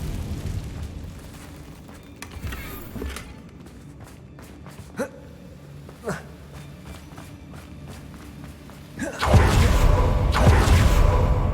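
Spell explosions from the Confringo curse in the video game Hogwarts Legacy: several sharp bursts punctuate a low rumbling battle bed, ending in a loud sustained roar of fire and blast noise.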